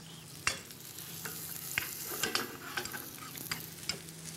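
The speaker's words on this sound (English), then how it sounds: "So I add a little bit more butter into the pan just right before we add the egg." Butter sizzling and frying in a small pan just before an egg goes in, a steady crackling hiss with occasional sharper pops and a faint spoon scraping against the pan.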